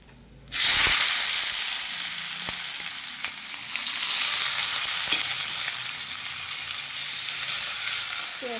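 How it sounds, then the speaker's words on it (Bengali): Onions frying in hot oil after a cumin and bay leaf tempering, for a Bengali green jackfruit curry: a loud close sizzle that starts abruptly and holds steady for several seconds with faint stirring clicks. "পেঁয়াজটা ভাজা ভাজা হোক।"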